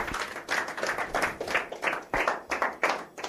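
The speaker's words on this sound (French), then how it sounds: "on peut l'applaudir bien fort" A small audience claps at an outdoor talent show, a few hands close by giving uneven, distinct claps over a few seconds.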